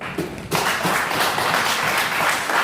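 A church congregation breaks into sustained applause after a dedication prayer, a dense steady wash of clapping that starts abruptly and fills the room at a constant level.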